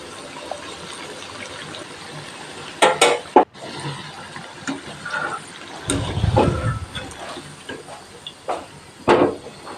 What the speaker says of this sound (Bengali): মিডিয়াম হিটে উল্টে পাল্টে ভেজে নেব একটা ঝাঁঝরি দিয়ে।